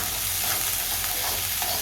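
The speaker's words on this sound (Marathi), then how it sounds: "भाजी फोडणी टाकलेली आहे" Eggplant vegetable curry with a tempering of spices is stirred in a pan, giving a steady, even sizzle and soft frying hiss throughout with no voices.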